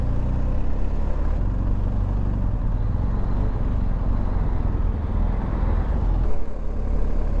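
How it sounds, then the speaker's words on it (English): Road traffic is heard from a BMW R1250 GS Adventure motorcycle riding through the Cotswolds near Witney. There is a steady, loud rumble of engines and road noise, with no talking. "What is all this traffic for?"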